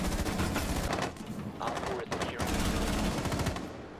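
Rapid automatic gunfire in the Rainbow Six Siege video game, loud continuous bursts with brief pauses, heard alone and close.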